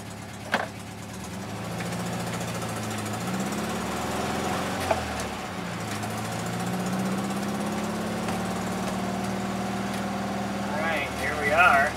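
A 1974 Volkswagen Super Beetle engine hums steadily while driving on a humid South Dakota day, a low continuous drone that shifts pitch as it changes speed, with a brief speaking voice early on.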